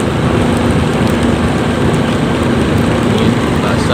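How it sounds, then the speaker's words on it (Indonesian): Rain falling during a daytime drive on a wet asphalt road in Simeulue, Aceh, a steady dense hiss blended with road and engine rumble, continuous and loud throughout. "udah turun hujan di daerah ini"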